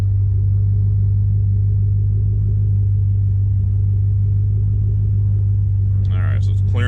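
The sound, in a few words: 2005 Ford Mustang GT engine running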